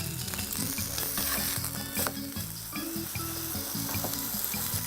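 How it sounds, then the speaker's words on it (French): Pork chop sizzling steadily on a hot plancha griddle, a continuous crackling hiss with faint clinks, no talking. "là je prépare tout à la plancha"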